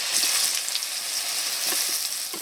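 Pieces of torul, a gourd, drop into a pan of hot oil already cooking ginger, setting off a steady, close sizzle with a few soft thuds and clinks as they land. No one speaks.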